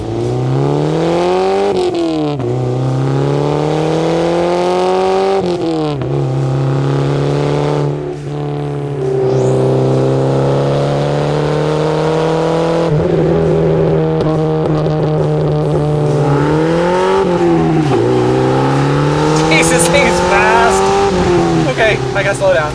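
A high-mileage Porsche 944 Turbo accelerating hard through several gears, engine note climbing repeatedly and dropping at each shift, loud and close from inside the car, with someone talking over it.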